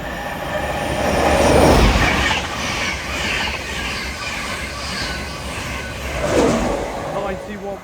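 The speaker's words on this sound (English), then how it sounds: "passing through now is an LNER 225 set en route from Bradford Foster Square to London King's Cross" An LNER 225 set on the East Coast Main Line at Alexandra Palace, bound from Bradford Foster Square to London King's Cross, rushes past with loud rolling wheel noise and squeal that swells twice.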